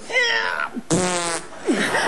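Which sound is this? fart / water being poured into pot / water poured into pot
fart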